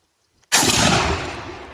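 A single shotgun shot fired with a 32 gram load of number 5 shot at a target about 36.5 metres away: one sharp, loud blast with a long, slowly fading roar and no talk.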